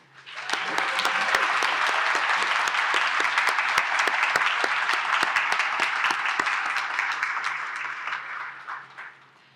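Graduating class at a winter commencement ceremony in Albany, NY, giving sustained applause to faculty mentors and advisors, a broad, steady roar of many hands that tapers off near the end.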